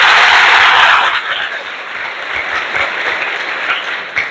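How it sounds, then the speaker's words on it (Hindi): An audience bursts into loud, dense applause for a math teacher, the clapping peaking at the start and then thinning to a softer patter before a final sharp clap. "एक बार तालियां होना चाहिए इसके लिए सर।"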